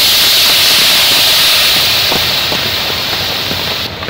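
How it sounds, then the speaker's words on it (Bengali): Water poured into a hot pan of hilsa fish head and turmeric powder bursts into a loud, close, rushing steam hiss that slowly eases and drops away near the end, with no talking. "দিয়ে দেবো হলুদ গুঁড়া, জল দিয়ে দেবো এখন আমি।"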